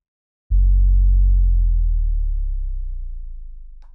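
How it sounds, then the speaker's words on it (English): A very low-frequency sine wave from a frequency generator serves as a bass drop, starting abruptly after a short silence and then sustaining as a deep, loud hum that slowly fades over several seconds. "You generate a sine wave at a very low frequency"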